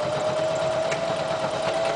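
A sewing machine runs a zigzag stitch on a denim jeans repair along the hip seam, a steady close-up motor whir and rapid needle chatter that continues without a break.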